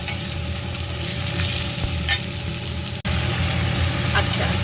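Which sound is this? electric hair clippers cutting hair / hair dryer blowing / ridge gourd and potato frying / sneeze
ridge gourd and potato frying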